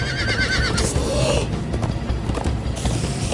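Horses whinny and gallop in a Minecraft Story Mode chase scene, a loud neigh rising over steady hoof clatter and busy game music and effects across the whole stretch.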